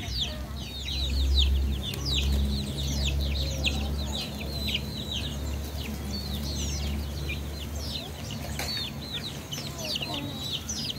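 Chickens and chicks let loose on a small farm cluck and peep in repeated short bursts over steady low background noise and faint voices.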